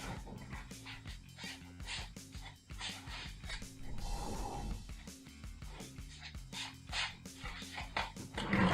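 A dog whimpers, yips and barks in repeated bursts close by, eager to be let outside, with a faint voice now and then in the background.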